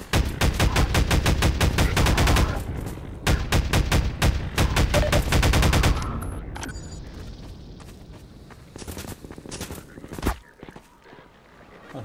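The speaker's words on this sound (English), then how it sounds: "Oh, who's shooting me?" Rapid automatic gunfire aimed at the player in Half-Life 2's prison level, loud bursts of closely spaced shots for several seconds, then sparser scattered shots and echoing impacts fading toward the end.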